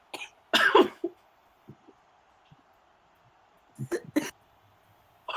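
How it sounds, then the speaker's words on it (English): A person coughing during a game, two separate bursts of harsh coughs, the first a strong cluster and the second a pair of sharp coughs a few seconds later, against quiet background hum. "Paige is coughing"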